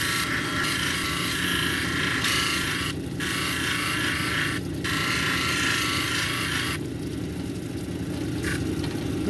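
An agate cabochon is ground on a 280 grit wheel, giving a continuous harsh, gritty rasp with a steady motor whine underneath. It is loud and close and runs for the whole stretch, with no talking.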